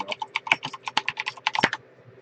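Quick bursts of typing on a computer keyboard, a rapid run of close, crisp key clicks that stops abruptly, leaving near silence at the end.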